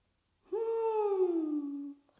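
A voice imitates an owl's hoot during a children's yoga and mindfulness story about a hedgehog. It is a single drawn-out call that glides slightly downward, clear and close against silence.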